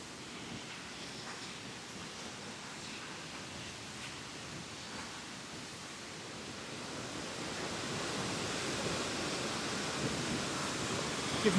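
Josephine Falls, a waterfall in Queensland rainforest swollen by recent rain, produces a continuous broadband rushing roar that builds slightly louder toward the end, steady and without voices.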